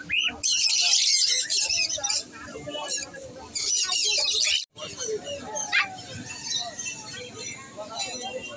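Caged exotic birds, including white cockatiels, chirp and squawk in a crowded aviary, bursts of shrill high chatter that stop briefly and return, close and lively, with people talking in between.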